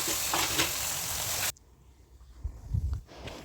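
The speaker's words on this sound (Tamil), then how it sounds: "மேரினேட் பண்ணி வச்சுருந்த ஃபிஷ்ஷையும் நல்லா ஃப்ரை பண்ணி எடுத்துக்கொள்கிறேன்" Loud, steady sizzling of marinated fish frying in hot oil, which cuts off abruptly, leaving quiet kitchen clatter and soft movements.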